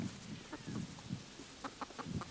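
Chickens cluck softly in short, scattered bursts while pecking at a crunchy carved jack-o'-lantern pumpkin outdoors, with low rustling and shuffling underneath.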